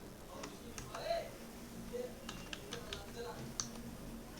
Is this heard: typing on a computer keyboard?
yes